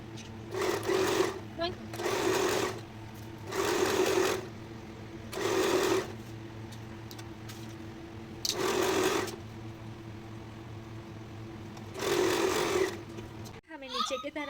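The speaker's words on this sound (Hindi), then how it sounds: "हमने और एक सिलाई लगा ली, आपको भी डबल सिलाई लगानी है" A sewing machine runs in repeated bursts of about a second each, stitching a double seam with steady whirring separated by short pauses, close up over a low hum, ending with a clunk.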